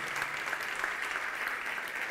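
A church congregation applauds in praise of the name of Jesus, a fairly soft and steady blur of many hands clapping heard from a distance.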